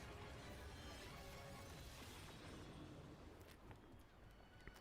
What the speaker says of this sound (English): Lois, I got a horse!